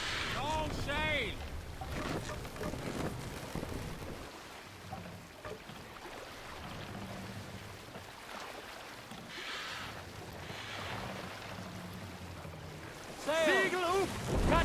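Viking longship under sail at sea in Assassin's Creed Valhalla: steady wind and water wash with creaking hull and rigging sounds, under game voices shouting commands at start and end.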